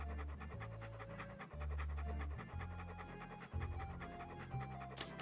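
Ferocious-looking guard dog in the Monkey Island 2 adventure game, panting in a steady rhythm of loud, close breaths over a low music bed.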